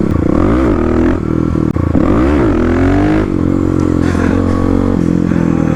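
Kawasaki KLX351 dirt bike engine revving hard and loud during clutch-up wheelie practice, with rising and falling pitch sweeps, several sharp throttle blips and a sustained high rev toward the end.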